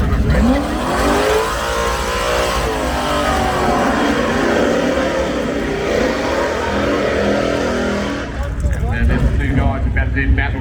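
A 383-stroke Holden HG Premier drag car at an off-street drag racing event: a loud engine roars and revs with rising pitch, then drops away near the end, while a commentator talks over it.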